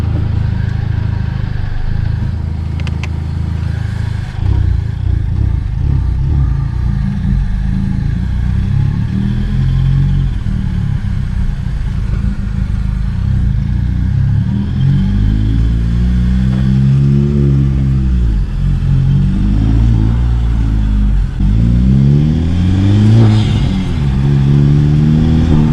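A 2021 Honda Civic Type R, rebuilt after being totaled, drives with no windshield, its engine droning loud and close with rising and falling revs as it accelerates and shifts, with heavy wind rush throughout.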